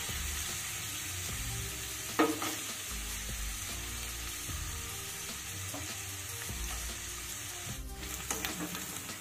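Chopped onion frying in oil with ginger and garlic, giving a continuous close crackling sizzle with a few soft stirring knocks.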